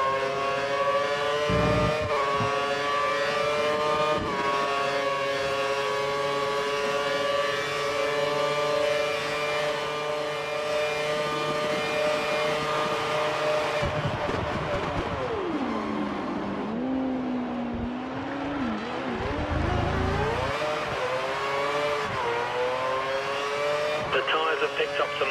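Race car engines from the F1 2013 video game, Chinese circuit, whine at a high pitch and hold steady, then dip and swoop as the cars brake and accelerate, loud and close with no talk.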